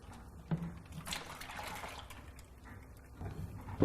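Buttermilk drains out through the opened bung of a butter churn barrel during traditional Irish farmhouse butter making, a soft, quiet trickle with a few small splashes.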